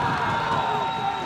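Stadium crowd at a National League rugby union match roaring and cheering loudly and continuously, a dense wash of voices with no break, some whoops rising above it.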